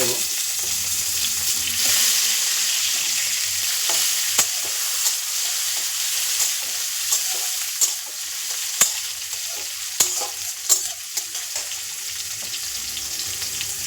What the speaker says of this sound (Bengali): পেঁয়াজ খুব ভালো করে লাল করে ভাজা হয়ে গেছে আমি কেটে রাখা টমেটো কুচিটা দেবো